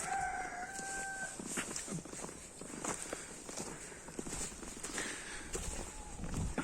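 Hens cluck and a rooster crows in a farmyard poultry run, the calls mixed with shuffling footsteps and rustling at close range.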